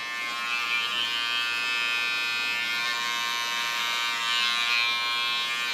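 An electric hair clipper rounds and trims around the ear during a short pixie haircut, giving a steady, close, fairly loud buzz that runs without a break and carries no talk.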